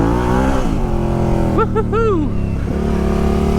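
Yamaha Tenere 700 adventure motorcycle engine revving close by, a steady drone broken by a few sharp blips that sweep up and down, with a brief shouted exclamation over it.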